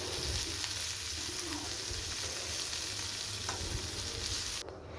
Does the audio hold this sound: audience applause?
no